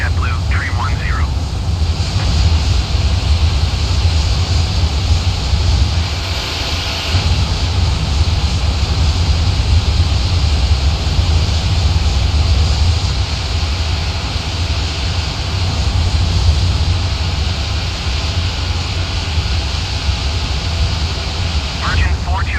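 Airbus A330 jet engines of a Virgin Atlantic flight spooling up for takeoff from New York JFK in Microsoft Flight Simulator, a steady loud low roar that holds throughout, with faint radio chatter over it.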